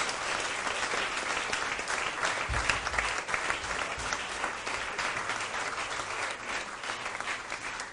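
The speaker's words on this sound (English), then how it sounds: "Give them both a big round of applause." Sustained audience applause at a magic show, a dense wash of many hands clapping steadily for the whole stretch, fairly loud and even with a few low thumps partway through.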